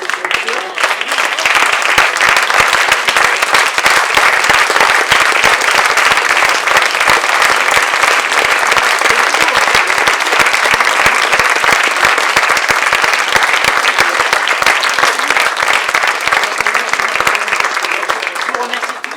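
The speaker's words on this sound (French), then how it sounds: "qu'on applaudisse du coup et les comédiens d'un jour" Sustained audience applause at a farmers' union conference in France, dense steady clapping filling the room for nearly twenty seconds at an even, loud level.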